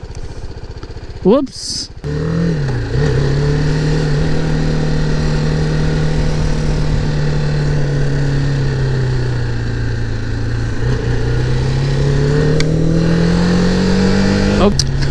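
BMW G310R motorcycle engine revving on a test ride, a sharp rising rev near the start, then a steady loud drone holding through, climbing slightly toward the end, with a brief spoken exclamation.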